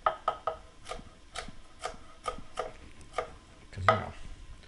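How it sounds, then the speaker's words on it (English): A knife chops a jalapeno into small pieces on a wooden cutting board, giving a steady series of close, crisp taps, about a dozen evenly paced cuts with a firmer stroke near the end. "So I like to cut these kind of small so nobody's getting a huge bite of jalapeno"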